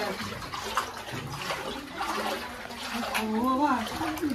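Floodwater from heavy rain standing inside a house in Bardhaman, heard as a continuous soft watery wash and trickle under people talking close by.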